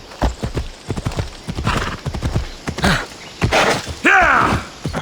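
A horse in the video game Assassin's Creed Odyssey clops its hooves in a steady walking rhythm, then lets out a loud, close whinny near the end.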